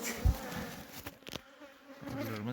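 Honey bees buzzing in a steady, fairly faint drone, with a few louder bumps and rustles near the start, during winter.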